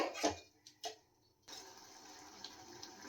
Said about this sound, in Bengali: এবারে আমি এর মধ্যে একটুখানি জল দেব, সামান্য, বেশি জল দেব না।